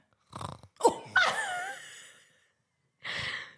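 A single voice imitates a snarl crossed with a snore, giving a rough, throaty growl that slides into a wavering sigh, then a second breathy rasp after a pause, all close and fairly loud.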